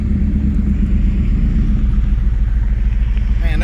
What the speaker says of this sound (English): This thing sounds really good when you downshift it.